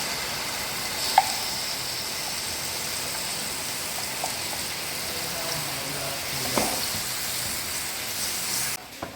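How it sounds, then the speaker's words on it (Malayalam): Ground jackfruit sautéed in ghee in a pan, a continuous soft hiss of frying with a few faint scrapes and clicks, with no one talking. "നമുക്ക് നന്നായിട്ടൊന്ന് വഴറ്റിയെടുക്കണം നമ്മൾ ചക്ക അരച്ചെടുത്തത്"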